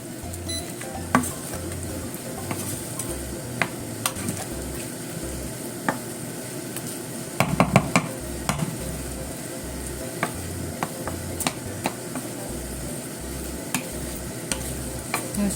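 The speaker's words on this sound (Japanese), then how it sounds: "そしてちょっと水分がなくなるまで炒めますね。" Vegetable croquette filling is stir-fried in a pan with mirin and soy sauce, with a continuous sizzle and repeated scraping, stirring strokes, close and steady throughout.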